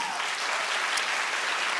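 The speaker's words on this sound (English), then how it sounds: "Give them a round of applause." Audience applause at a stand-up comedy show fills the room as a dense, even wash of many hands clapping, sustained and loud throughout with no pauses.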